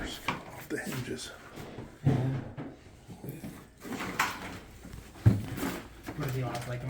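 A door off its hinges is handled, giving a couple of solid wooden knocks and a scraping shuffle, mixed with people talking nearby.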